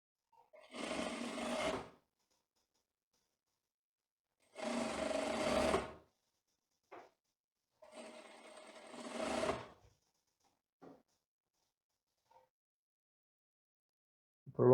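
A sewing machine stitches the side seam of tailored women's trousers in three steady bursts of about one to two seconds each, separated by quiet pauses and small clicks.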